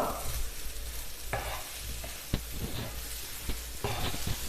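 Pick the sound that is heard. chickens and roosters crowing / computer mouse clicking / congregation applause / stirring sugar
stirring sugar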